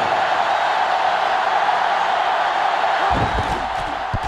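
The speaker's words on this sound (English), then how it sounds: "The crowd really making it difficult." Loud stadium crowd roar from NCAA Football 2005 during an Arkansas versus Florida game, a constant broad din with a few low thumps and shouts breaking in near the end.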